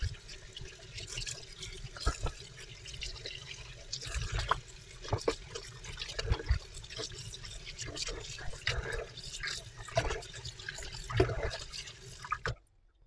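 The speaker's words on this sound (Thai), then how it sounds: "เดี๋ยวเรานำไปล้างน้ำนะคะแล้วก็ซับแห้งกันค่ะ" Running water splashes and drips as bananas are washed under a tap, with irregular trickles and patters throughout. The sound is quiet and close and ends abruptly.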